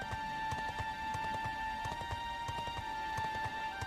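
Horse hooves clip-clopping at an even trotting pace in the Dragon Quest 11 video game, crisp regular beats over a sustained tonal music or ambient hum, with no talking.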